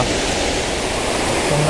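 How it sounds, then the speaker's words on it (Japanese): A lit-up waterfall at night in the rain, a steady, loud, broadband rushing roar of falling water with no break. "はい、滝が見えてきました。"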